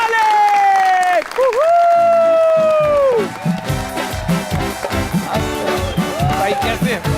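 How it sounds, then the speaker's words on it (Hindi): Studio audience clapping to welcome cricketer Shoaib Malik onto an interview show, rising under loud sweeping music with a swelling then pulsing beat, the applause dense and continuous throughout. "बुलाना चाहूंगा आप लोगों की भरपूर तालियों में शुएब मलिक"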